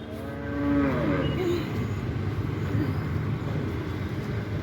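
A cow being fed lets out one drawn-out moo up close, then quiet shuffling and low background noise continue.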